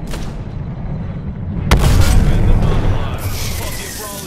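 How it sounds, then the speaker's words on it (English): A Longbow sniper rifle fires once in Apex Legends: one loud, heavy crack that rolls into a sustained booming rumble. Steady game ambience sits beneath it, with no talk. "Shooting with the longbow."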